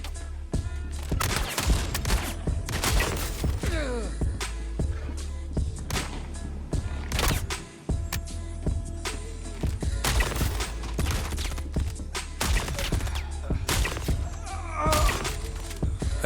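The Deadrig shotgun fires repeatedly in a video game, heavy booming blasts at irregular intervals over a constant low rumble of game background sound.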